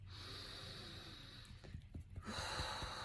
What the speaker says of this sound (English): And breathing out any anxiety, breathing in peace,